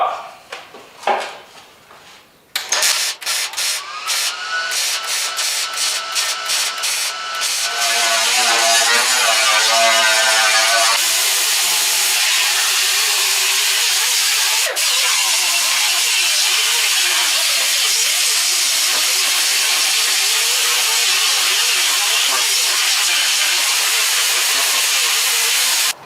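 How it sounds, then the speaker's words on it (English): A rust repair patch panel on a car body is stitch welded and cleaned up: a rapid burst of clicking welds, then a loud continuous hissing grind that runs steadily to the end. "we can go ahead and stitch weld that and clean it up for a finished job"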